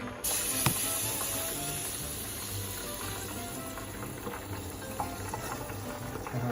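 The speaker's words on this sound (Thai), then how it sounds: "ผัดไปเรื่อยๆให้กะทิแตกมันนะ" Coconut cream sizzles and bubbles steadily as it is stir-fried in a pan on an electric stove for chu chee grouper, with a soft continuous frying hiss and occasional small pops throughout.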